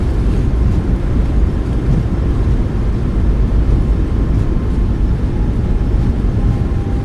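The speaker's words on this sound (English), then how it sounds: "Nose down gently, reversers are out, decelerating" Boeing 737 MAX8 thrust reversers roaring during deceleration after landing in a flight simulator, a continuous heavy low rumble of jet engines, steady and loud with no talk.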